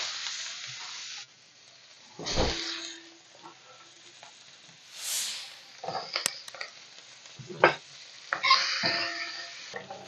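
Onions added to a pan after searing beef short ribs give a fairly quiet, uneven sizzle, broken by a few louder bursts, clatters and clicks from handling the pan, no voices.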